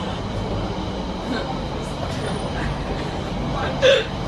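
A London Underground metro train in 2025 fills the carriage with a steady loud rumble and rattle. A brief squeal rises near the end, and faint voices sit under the noise.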